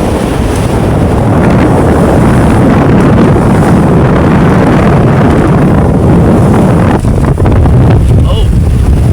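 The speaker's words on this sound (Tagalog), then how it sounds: "Lakas naman talaga ng hangin." Strong wind buffets the microphone aboard a boat at sea, a loud, continuous low roar with gusty rumbling and water sloshing throughout, with no pauses.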